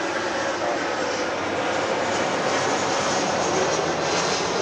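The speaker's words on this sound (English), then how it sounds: "An aircraft of the Alaska brand getting ready to touch down here on 24 right." An Alaska airliner on approach to touch down on runway 24 right at LAX, a steady, broad jet-engine roar holding loud and even throughout, with no voices.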